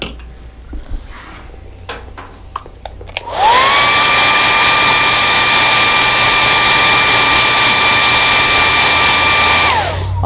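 A heat gun heat-sets fresh paint on a fishing lure, switching on abruptly with a steady, loud, close blowing whoosh and a constant high whine that holds for about seven seconds before tailing off.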